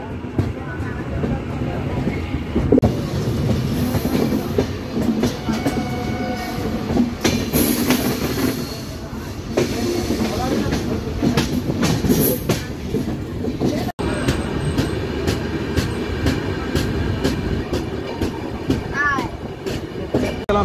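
Konark Express passenger train running steadily on rails, a continuous loud rumble with clattering wheels and occasional squeals, a brief dropout near the middle, with some talk in the carriage.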